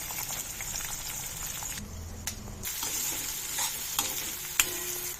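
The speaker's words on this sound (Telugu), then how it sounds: "నూనె వేడెక్కింది. లవంగం, దాల్చిన చెక్క వేస్తున్నాను, క్రష్ చేసుకున్నవి. ఉల్లి ముక్కలు వేస్తున్నాను." Onion pieces drop into hot oil with crushed cloves and cinnamon, producing a loud, continuous, close sizzle with a brief dip and a few sharp stirring clicks.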